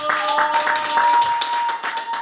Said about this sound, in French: Mesdames, Messieurs, on va devoir applaudir pour JDT Moulopoe